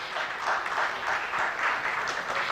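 Audience applause at a climate leadership panel event, a steady, moderately distant round of clapping that fills the whole moment without speech.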